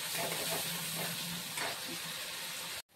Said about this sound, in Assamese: ধুনীয়াকৈ মছলাটো মই ভাজি লওঁ অলপ দেৰি কাৰণে।